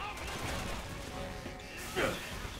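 Gunfire in the video game Resident Evil 6: a dense, steady clatter of shots with one sharper burst near the end, mixed under a talking voice.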